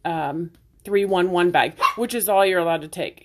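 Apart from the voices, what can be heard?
puppy barking in background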